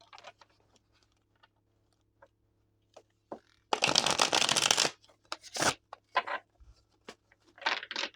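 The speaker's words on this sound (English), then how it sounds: "So I just have to shuffle up all these cards here" Tarot cards are shuffled in a quick riffle burst, surrounded by soft taps and flicks as the deck is handled, close and clear in a quiet room.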